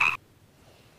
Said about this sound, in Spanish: la rana, entre salto y salto, tiraba croares para interrumpir